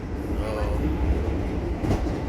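Argo Bromo Anggrek express train heard from inside a carriage, a steady low rumble with faint rhythmic wheel clatter, continuous and fairly loud.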